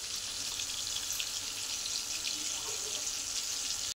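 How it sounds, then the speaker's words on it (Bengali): Fish frying slowly in a pan makes a soft, steady sizzle with light crackling throughout, close but fairly quiet, cutting off abruptly at the end. "মাছটা আস্তে আস্তে ভেজে নেব"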